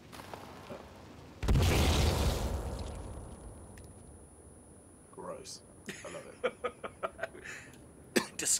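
A time bomb goes off in the survival video game Sons of the Forest as one loud, sudden blast with a booming low-end body, decaying over about a second, followed later by scattered sharp clicks and knocks.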